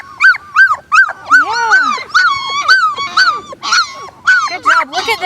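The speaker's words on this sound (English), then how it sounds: "Look at how brave these puppies are." High-pitched whimpers and yelps come in a steady string of short cries from several German Shepherd puppies with black sable coats, close up on their first time out of the kennel, with a brief spoken word over them.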